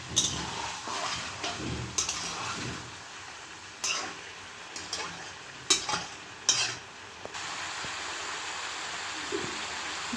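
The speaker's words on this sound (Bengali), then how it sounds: "মটনটা মাঝে মাঝে নেড়ে দিতে হবে," Mutton is stirred and fried in a pan for Kolkata-style biryani, with steady hissing sizzle broken by repeated scraping and clattering strokes of a spoon against the pan, close and loud.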